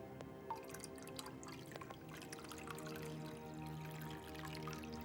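Acid dissolves limestone, giving a faint fizzing and bubbling with scattered tiny drips and pops over a quiet steady background.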